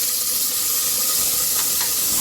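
A spoonful of ginger garlic paste is dropped into hot oil with fennel seeds and curry leaves for channa masala, giving a loud, steady close sizzle and hiss throughout.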